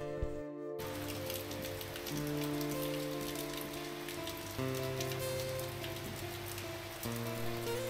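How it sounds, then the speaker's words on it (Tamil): Light rain falls steadily on a surface near a home, a constant soft patter with a faint steady tonal hum running underneath throughout. "வீட்டுக்கு வந்ததுமே சின்னதாக மழை ஆரம்பிச்சிருச்சு"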